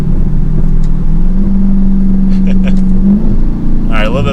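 A Dodge Charger SRT Hellcat Redeye accelerates in third gear with a loud, deep engine drone whose pitch climbs steadily, heard from inside the car as a person talks over it.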